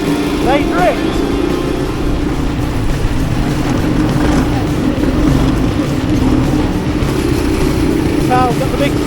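Cars drifting in a Honda drift event, engines roaring and revving continuously at high volume with rising and falling pitch sweeps, loud and close, with voices talking over the din.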